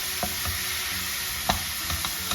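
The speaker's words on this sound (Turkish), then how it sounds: "kıymalarımızı karıştırıyoruz. güzelce kavrulacak." Ground beef sizzles in a pan without oil while a spoon stirs and browns it, steady frying hiss broken by soft scraping knocks at irregular intervals.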